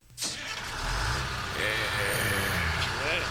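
Bus pulling up in an audio drama, a rumbling engine rising in after a sharp start and holding steady, with a hiss like air brakes and muffled voices under it.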